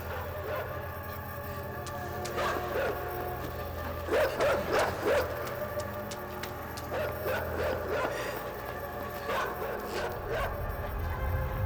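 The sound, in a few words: dogs barking in a video game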